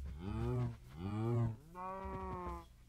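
A cow in Minecraft moos three times, close and fairly clear, each low drawn-out call lasting under a second.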